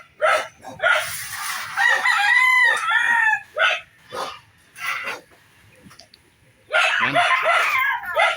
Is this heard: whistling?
no